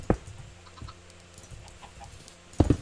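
Chickens in Minecraft give a few short clucks, one at the start and one at the end with faint chirps between, close and moderately loud with no talk.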